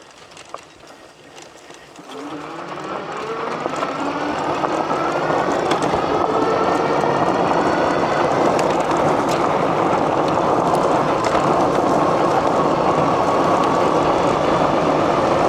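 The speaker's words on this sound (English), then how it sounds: "It's a nice, comfortable ride over that gravel road." An AMYET Ares 52v dual motor folding electric bike rides over a gravel road, a low crunching rumble and wind noise building after a quiet start into a loud, steady roar.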